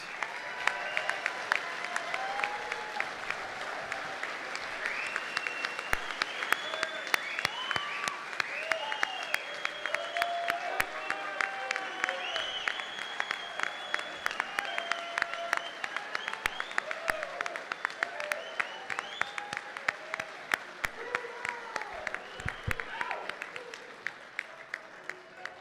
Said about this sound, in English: Let's have a round of applause for all of our graduates.